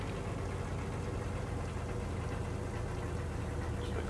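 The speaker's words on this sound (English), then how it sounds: "I'm going to bring the engines down to about 200 rpm." Ship's engines, with the supercharger switched off, throttle down toward about 200 rpm. They settle into a faint, steady low rumble and idle-like throb with no other sounds.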